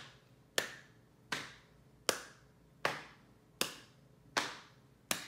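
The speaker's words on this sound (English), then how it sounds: "You can make a rhythm with me by slapping your lap and then clapping your hands." Slapping on a lap and clapping of hands in a slow, even rhythm, seven sharp, close strikes spaced under a second apart, each ringing briefly before the next, with no voices.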